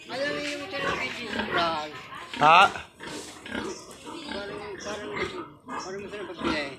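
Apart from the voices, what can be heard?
sow pig oinking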